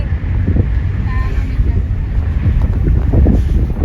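Steady wind rushing past the microphone, a constant low roar with people talking faintly underneath.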